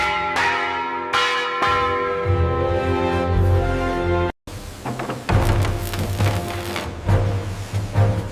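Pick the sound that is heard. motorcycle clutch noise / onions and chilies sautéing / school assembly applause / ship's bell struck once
ship's bell struck once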